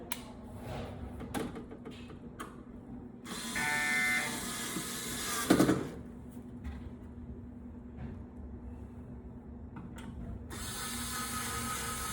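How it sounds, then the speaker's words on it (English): Electric screwdriver driving four screws back in to mount an ID scanner on a wall-mounted machine, heard as short ratcheting, whirring bursts separated by quiet pauses, close by with no talking. "We then take and we put our 4 screws back in."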